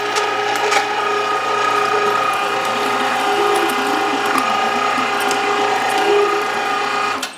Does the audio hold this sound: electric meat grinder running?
yes